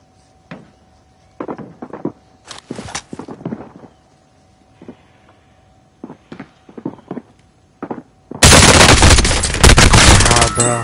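Rapid automatic gunfire in a video game erupts loud and sustained near the end, after a stretch of scattered talk and quieter game sounds.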